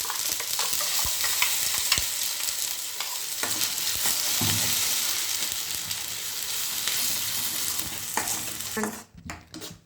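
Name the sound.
sautéing ginger garlic paste with ground tomato and onion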